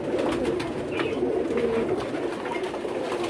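Pigeons coo steadily on a rooftop in Karachi, the low throaty calls layered and continuous across a few seconds, close and fairly loud with faint background hum and no talking.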